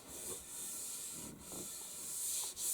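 A hand rubs a wooden axe handle smooth, making soft, faint, continuous rubbing strokes close by, with slight swells and dips in loudness.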